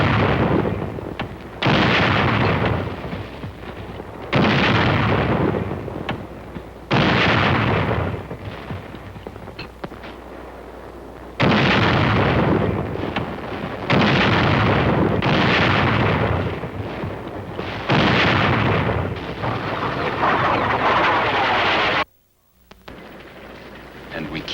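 Korean War military gunfire and artillery from 1951, heard as loud, sustained bursts of firing and blasts in long stretches with short pauses between them, ending in a brief silence.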